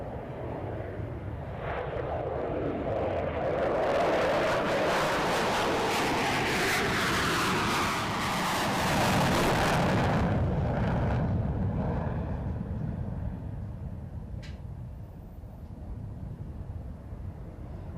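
Indian Air Force jets roar overhead at an air show, a loud sustained broadband rumble that swells as they pass, peaks, then fades with a lingering roar, with no voices.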